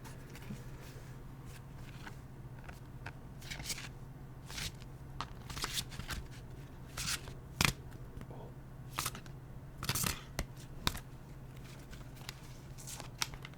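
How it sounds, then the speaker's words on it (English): Tarot cards being shuffled by hand in a quiet room, soft papery riffles and taps coming in irregular bursts over a low steady hum, close and gentle. "I'm really shuffling for real, just so you know."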